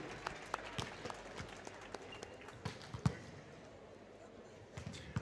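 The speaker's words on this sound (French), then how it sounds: "Applaudissements, mesdames et messieurs, donc, pour Malika et pour Madame Dumoulin." A modest crowd in a volleyball hall claps for two honorees, sparse and uneven, with individual sharp claps standing out over a thin background, tapering off near the end.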